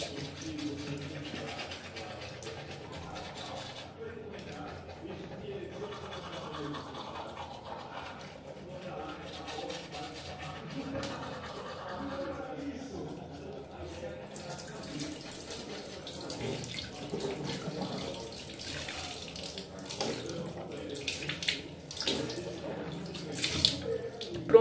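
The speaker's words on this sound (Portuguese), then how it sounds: "Vou escovar os dentes também, porque eu dormi." Teeth brushed at a bathroom sink in the morning while the tap runs, a continuous close stream of water with some brushing and handling noises, louder toward the end.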